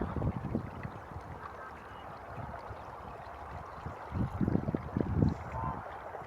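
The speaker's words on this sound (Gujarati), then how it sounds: "ડુંગળીના રોપમાં પાણી અત્યારે ચાલુ કરી દેવામાં આવ્યું છે કવાની મોટરથી" Water pumped from a well motor gurgles and splashes steadily into an onion seedling field, with an uneven low churning flow that swells in a few louder surges.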